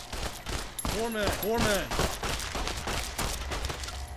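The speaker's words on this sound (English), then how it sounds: "Open fire. Taking fire. Taking fire." Gunfire in Fallout: New Vegas: a sustained fusillade of rapid shots with dense overlapping reports throughout, while a voice speaks over it.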